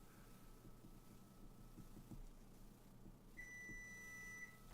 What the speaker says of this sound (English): Oh, beep beep.